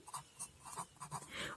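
Chalk or marker strokes on a board in a class 9 maths lesson on lines and angles. Short, faint scratchy strokes come in quick uneven succession with no talk over them.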